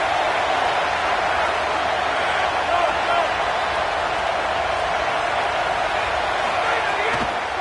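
A large football stadium crowd roars steadily and loudly throughout, a dense sustained wall of cheering, with a play-by-play voice talking over it.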